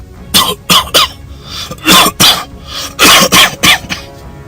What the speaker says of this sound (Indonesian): Disusul suara batuknya.